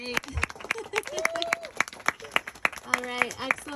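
An audience applauds for students at a campus sustainability lunch event, with scattered hand claps that come through mixed with talking voices throughout.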